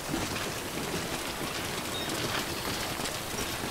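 Steady rain falls in the video game Death Stranding, a dense continuous hiss that spans the whole stretch with no talk over it.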